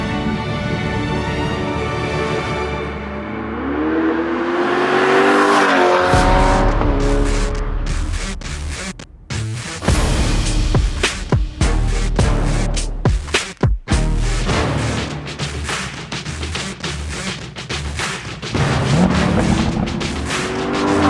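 A Chevrolet C8 Corvette's engine revs and roars nearby, rising in pitch then settling into a loud, rough burbling idle with sharp bursts and pops, with no talk.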